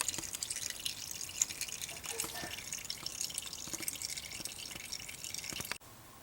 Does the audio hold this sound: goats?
no